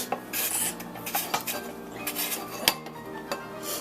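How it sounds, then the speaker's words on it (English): Carrots are shaved into fine strips with steady, light scraping and rasping strokes, close and fairly quiet, with a few sharper clicks between the strokes. "you're going to have to rotate the carrot a bit as you shave"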